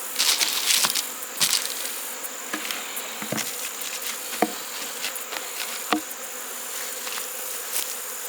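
Honey bees buzz steadily around a struggling beehive colony, a dense close drone with scattered faint knocks and ticks and no voices.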